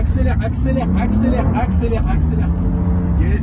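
A sports car on a circuit accelerates during a drift lesson, its engine note rising and falling through several short bursts, heard from the cabin beneath an instructor talking.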